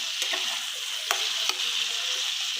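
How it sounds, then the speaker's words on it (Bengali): Onions frying in oil in a pan for a dried fish dish, a quiet continuous sizzle punctuated by a few crisp spatula scrapes and taps. "পেঁয়াজগুলো ভালো মতো ভাজা হবে জন্য"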